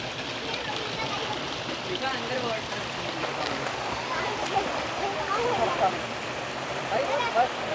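Steady rush of a mountain stream of water pouring near Yamunotri at Chitrakoot Dham, with hands being washed in the flow; continuous close splashing and burbling, with occasional voices over it.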